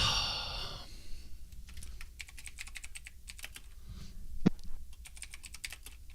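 Quiet, close computer keyboard typing: rapid irregular clicks and key taps follow a brief louder moment at the start, continuing steadily with one sharper click midway.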